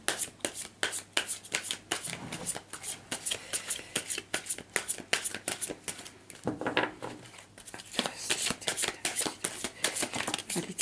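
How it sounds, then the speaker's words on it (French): Tarot cards riffled and shuffled by hand in a steady flurry of crisp, rapid flicks and snaps, with brief pauses between bursts, close and fairly quiet with no talking. "On va aller tirer des cartes"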